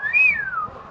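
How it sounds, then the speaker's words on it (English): A man whistles in Harar's Old City in Ethiopia to summon hyenas, one clear rising-then-falling whistle heard alone from nearby over faint background. "whistling and signaling to summon the hyenas to come over."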